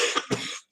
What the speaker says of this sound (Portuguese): Peço desculpa pela tosse